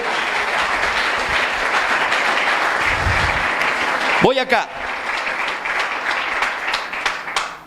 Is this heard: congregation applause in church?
yes